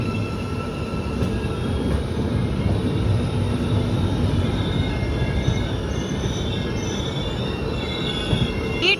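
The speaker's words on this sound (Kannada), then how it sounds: "ಈ ಟ್ರೈನ್ ಬಂದು ಸ್ಟಾಪ್ ಆಯಿತು." A passenger train on an Indian railway line grinds in close and loud, its wheels squealing with a continuous high metallic screech over a dense rumble as it slows to a stop.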